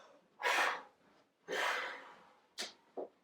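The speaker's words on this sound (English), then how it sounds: "You might be able to hear me breathing out on the microphone" Breathing during a Pilates class for over-60s, close to the microphone: two long, soft exhalations followed by two shorter, sharper breaths, quiet and with no talking.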